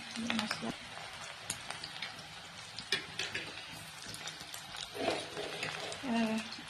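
Onions dropped into a pan of frying egg crackle and sizzle quietly, with scraping and stirring clatter over a soft background hiss.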